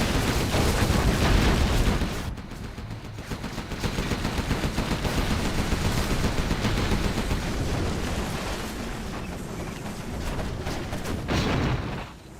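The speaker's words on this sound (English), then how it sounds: "Level 2 artillery coming in from SiZe." Gunfire and artillery from a real-time strategy video game match, loud, dense, continuous bursts of shooting and booms with a brief lull near the start and a sudden stop at the end.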